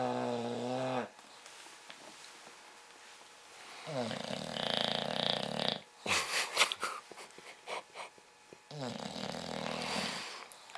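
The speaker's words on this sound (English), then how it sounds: "Archie the Bulldog snoring." A bulldog snores loudly and close by, with long rasping, wheezing inhalations and snorting breaths repeating in slow cycles over several seconds, no talking.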